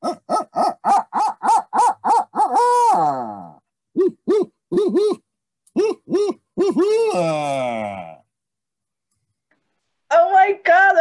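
A person vocally imitates a barred owl call, a run of rhythmic hooting notes followed by longer drawn-out, descending hoots, loud and close. Brief talk follows at the end.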